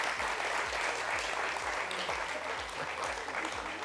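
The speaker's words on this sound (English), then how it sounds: "we can clap for moms and dads" An audience at an anniversary event claps for moms and dads, a steady wash of applause from a room full of people, with rhythmic thumps running beneath it.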